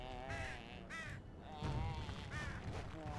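Several crows caw in Dragon Age: Origins, harsh repeated calls in short clusters over a murmuring game ambience, fairly close and clear.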